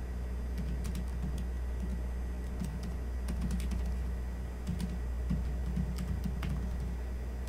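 Typing on a computer keyboard, with quick irregular clusters of clicking keystrokes through the whole stretch over a low steady background hum, no talk.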